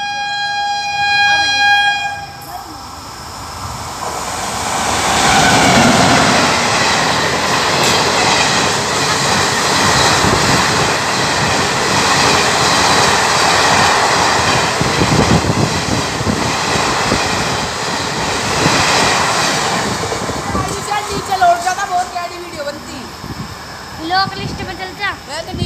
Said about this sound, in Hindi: देखो भाई एक और ट्रेन आ रही है